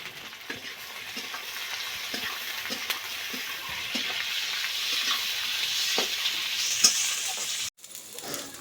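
Potatoes fry in hot oil in a pan for chicken curry, with a steady bright sizzle and occasional soft stirring taps, close up, ending in a brief abrupt break.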